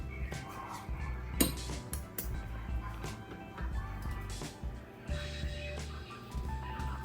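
Food being stirred in a pan during nighttime cooking, with scraping and clinking of a utensil against the pan over a busy background, and a voice speaking at times.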